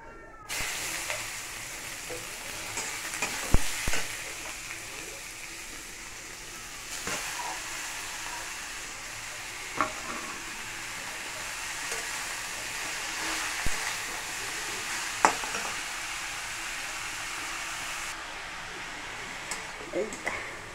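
Cut papaya sizzles and fries in hot oil with mustard in a pan, a steady broad hiss that runs the whole time with occasional sharper crackles and a voice talking over it.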